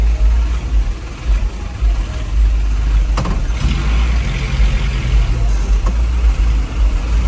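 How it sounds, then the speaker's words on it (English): Heavy night traffic on a busy Nairobi street, with car and truck engines idling and rumbling steadily close by, a few louder passing surges, and voices faintly mixed in. "Cars everywhere."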